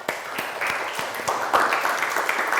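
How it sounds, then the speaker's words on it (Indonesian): Students in a junior high school class in Indonesia applaud together, a steady patter of many hands clapping at close range for the full stretch with no talking. "Oke, tepuk tangan semuanya."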